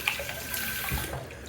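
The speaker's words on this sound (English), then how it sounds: "I'm gonna go ahead and rinse out the sink here" Water pours from a bathroom sink tap during a rinse, a brief close rushing splash with gurgling fluctuations, loud and alone.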